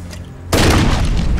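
A loud, close grenade blast from a video game hits suddenly and rumbles on as a dense, sustained roar.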